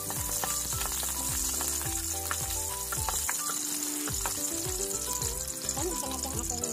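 Garlic frying in a pan with a dense, steady sizzle and crackle, close and continuous, with faint stirring scrapes mixed in.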